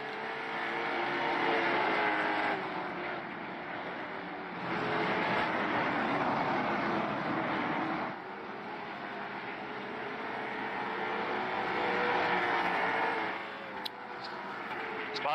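Late model stock cars racing in the iRacing video game at New Smyrna Speedway: a steady, loud engine drone with swelling and fading passes, under commentary voices.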